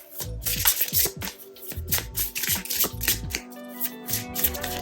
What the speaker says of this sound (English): I know that some of you guys hate the sound of this, the cards shuffling